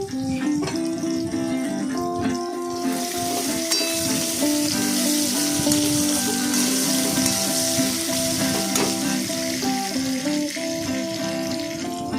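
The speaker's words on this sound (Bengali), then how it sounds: "তারপর তার মধ্যে আলুটাকে ভালো করে ভেজে নিলাম" Potatoes frying in a pan with black cumin seeds for a ridge gourd and potato curry, a steady loud sizzle running throughout with occasional stirring scrapes and clinks, no voices.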